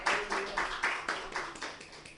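Women in an audience clap together in a rhythmic, steady group pattern, fairly close and moderately loud, with no talking over it.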